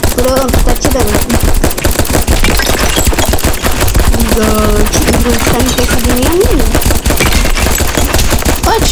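Rapid, continuous gunfire in Roblox as a player shoots at a giant, a loud dense machine-gun-like stream of shots running throughout with game sounds mixed underneath.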